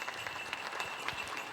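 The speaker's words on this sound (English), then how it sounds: "Let's give her a round of applause." Audience at a Lumbee cultural presentation applauds for a powwow dancer, a faint, distant patter of clapping heard briefly at low level.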